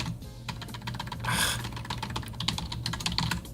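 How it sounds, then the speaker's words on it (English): Rapid, close keyboard typing with steady clicking keystrokes and a brief louder burst of key clatter, heard alone while a Raspberry Pi is set up as a Wii U gamepad. "I hate typing on this keyboard as well"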